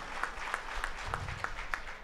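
Audience applause welcoming Telangana movement artists at a gathering of Telangana activists, a steady patter of many hands clapping at moderate distance, fairly faint and continuous for about two seconds with no talk over it.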